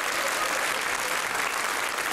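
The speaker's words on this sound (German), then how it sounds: "Standing Ovations im Publikum." Audience applause during a standing ovation at a German television cabaret show fills the whole stretch, a dense, steady, loud wash of clapping from a large crowd.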